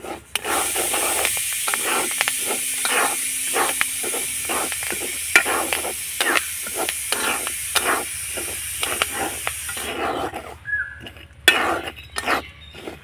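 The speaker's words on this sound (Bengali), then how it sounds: "কি সুন্দরভাবে ফুটছে দেখুন" Chickpeas and peanuts roast dry in a pan while being stirred, a run of rhythmic scraping strokes with sizzly hiss, scattered pops and clicks, and a quieter, sparser stretch toward the end.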